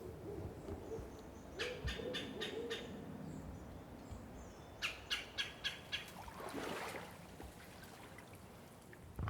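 A barred owl hoots in a rhythmic series of calls from a distance in a cypress dome in the Everglades, repeated twice over steady outdoor ambience.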